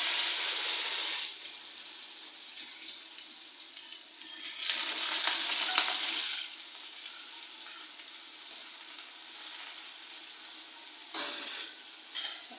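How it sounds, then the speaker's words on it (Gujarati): Mustard seeds and cumin crackle in hot oil, then chopped vegetables and tomatoes go into the pan. Loud sizzling comes in three bursts, at the start, in the middle and near the end, with quieter frying simmering in between. "તેલ ગરમ થઈ ગયું છે હવે હું એમાં નાખું થોડાક રાઈ જીરું"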